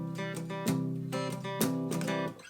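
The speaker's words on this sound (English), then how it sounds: "it's going to give you like a muted sound if you're resting your hand on the very end of the guitar here." Palm-muted acoustic guitar strummed with the hand resting on the bridge end, close and steady, giving short damped chord hits in a repeating rhythm with a few accented strokes.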